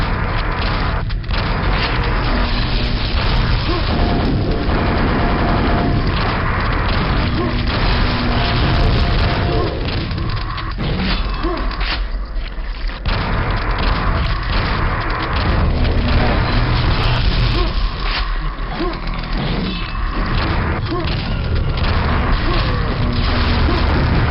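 Green blobs exploding in Quake: Arcane Dimensions, repeated loud booms and crashes amid dense, constant game combat noise and mechanical clatter, with speech heard faintly in the mix.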